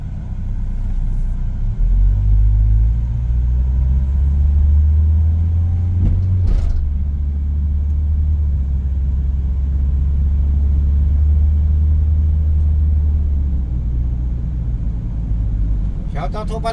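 Steady low rumble of a car heading out onto the highway, driven by an older driver, a continuous close road and engine drone throughout with a brief sharper noise midway and faint speech-like sounds.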